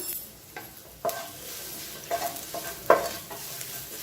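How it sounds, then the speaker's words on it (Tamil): Urad dal frying in a pan with ginger and asafoetida, a steady soft sizzle broken by several clear scrapes and stirs of a spoon against the pan, close up with no voices. "இது எல்லாத்தையும் நல்லா வதக்கிக்கலாம்"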